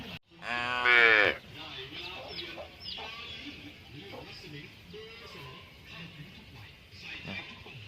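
A single loud bleat from a 12-day-old male calf, followed by quieter background noises and soft murmuring.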